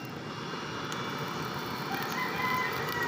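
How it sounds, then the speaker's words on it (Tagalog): The blower of a used-oil burner stove runs at its low first setting with a continuous, even whooshing roar that holds steady and swells slightly toward the end, close by and alone. "Ito po yung blower niya guys."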